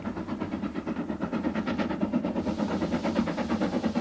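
A steam locomotive chuffing in a steady, rapid rhythm, loud and close, with a constant rumble of engine noise underneath.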